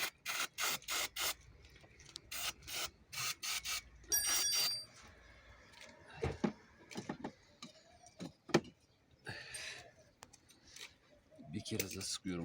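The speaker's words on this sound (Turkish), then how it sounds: "Bir kez daha balata spreyi uyguluyorum." Brake cleaner sprayed onto a car engine's throttle body, several sharp hissing bursts in quick succession followed by scattered spray and handling noises, with someone talking in Turkish between them.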